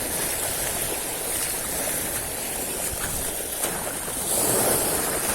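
Rough ocean surf rolls and hisses continuously during a shore fishing outing, with wind buffeting the microphone and a louder surge of water near the end.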